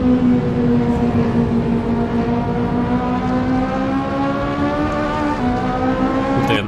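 A Ferrari Italia driven in the video game Forza Horizon 5 holds a steady, loud engine drone with a rising harmonic whine, a sustained cruise on a Tokyo road with no talking.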